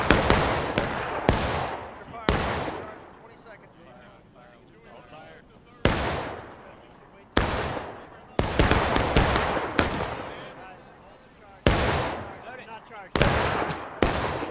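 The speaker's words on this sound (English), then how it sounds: "Confederate artillery is starting to fire." Confederate artillery fires in a dark, pitch-black Civil War game battle during the Maryland Campaign, with about ten loud booming cannon blasts at irregular intervals, each rolling off into a long decay, and a few voices in the background.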